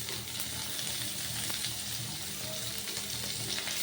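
Onion and garlic with whole dried red chillies frying in hot oil in a pan, a steady close sizzle with faint stirring scrapes throughout.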